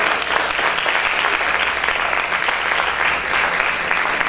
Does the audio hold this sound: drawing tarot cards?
no